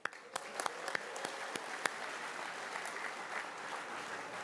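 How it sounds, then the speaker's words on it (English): Fairly quiet audience applause in a hall at the International Boxing Hall of Fame induction, a few sharp individual claps up front early, then a steady even patter of many hands continuing to the end. "So applaud yourselves for that."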